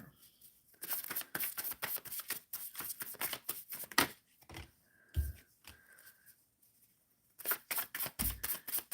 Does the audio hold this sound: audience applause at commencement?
no